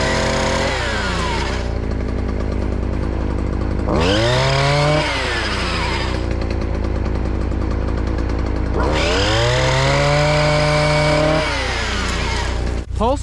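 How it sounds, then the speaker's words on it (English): A pole saw engine cuts through tree branches during a paid tree removal job, revving loudly in repeated rising bursts with steady idling in between, close and continuous. "Pole saws are handy, bro."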